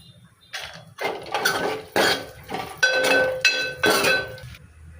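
Cashews roast in a pan for rice kheer, with a run of clinking, scraping metallic stirring strokes against the pan, fairly close and irregular, separated by brief quiet gaps.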